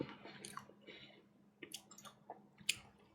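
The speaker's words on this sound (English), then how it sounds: "My cotton candy is hard and crunchy now." Hard, crunchy cotton candy being chewed close to the mic, with soft wet crunches and clicking bites in an irregular rhythm, quiet, with no talking.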